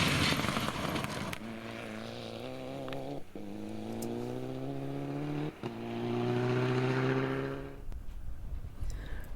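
A Mitsubishi Lancer WRC replica rally car runs flat out on a forest stage. The engine screams up through the gears, with sharp breaks at each shift, then the sound fades as the car passes and pulls away.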